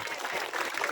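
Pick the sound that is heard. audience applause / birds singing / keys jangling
audience applause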